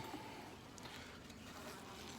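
Honey bees swarm around an opened top bar hive during an early June inspection, giving a soft, steady, continuous buzz that stays faint and even throughout with no voices.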